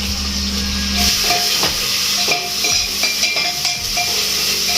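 Spices sizzle in hot oil, a steady frying sizzle with a bright hiss, punctuated by a few clinks of a utensil against a pan, close and continuous.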